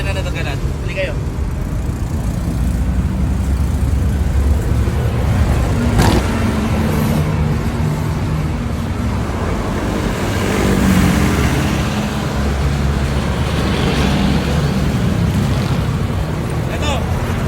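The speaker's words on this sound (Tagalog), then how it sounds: "Tignan natin yung ibang sasakyan na nagaganan." Cars and other vehicles rumble past on a road in a steady, loud wash of engine and tyre noise, with occasional swells as individual vehicles go by.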